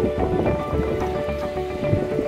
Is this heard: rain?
yes